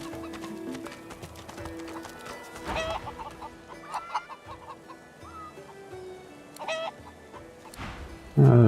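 Chickens cluck in a village scene of the game Divinity: Original Sin 2, scattered clucks over quiet ambient music with occasional clip-clopping hooves, a sharper burst near the end and no talk.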